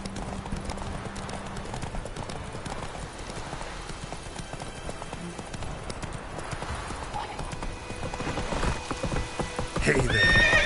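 Roach, a horse in The Witcher 3, trots with a steady, close clip-clop of hooves, snorts and whinnies now and then, and the sound swells louder near the end. A voice talks at moments under the hoofbeats.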